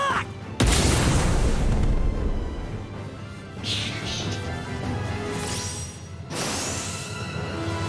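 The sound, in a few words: explosive special attack in One Piece Odyssey video game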